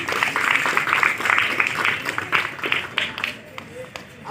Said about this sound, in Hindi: के लिए जोरदार तालियां हो जाए